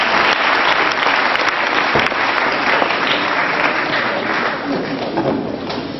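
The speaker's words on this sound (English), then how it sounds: "Can you please give him a big round of applause?" A large audience claps loudly and steadily in applause for a speaker at an alumni launch event, the dense clapping sustained throughout with no voices over it.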